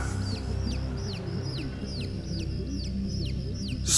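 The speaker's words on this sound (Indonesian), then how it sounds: "Ini suara anak ayam." Chicks cheep over and over in a steady run of high, rising peeps, with occasional lower clucks from other fowl underneath and a constant low hum behind them. Heard at night while a TV is on, and the peeping seems distant.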